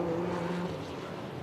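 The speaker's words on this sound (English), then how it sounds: "Aston Martin just coming up the hill towards the first turn" An Aston Martin GT4 race car powers away from a tight pit exit at the Red Bull Ring, a steady mid-distance engine drone that fades slightly as it climbs toward the first turn.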